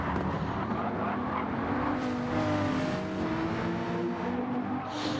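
A race car laps a circuit, its engine a close, sustained droning roar with shifting pitch that holds steady throughout and never drops away.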